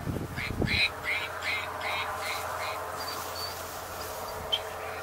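A few short nasal duck quacks in a quick cluster at the start, then a steady low background hum with a faint chirp near the end.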